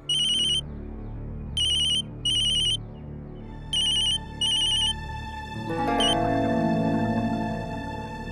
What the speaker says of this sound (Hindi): शंकरी ताई फोन क्यों नहीं उठा रही?